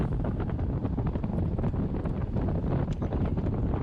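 Steady, loud wind roar buffets the microphone throughout during a fast road bike ride at around 45 km/h, a continuous broadband rush with no speech.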